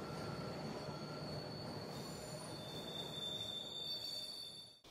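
RER A commuter train at a suburban station, its wheels squealing loudly on the rails with a steady rumble, high metallic whine building toward the end before cutting off; no voices.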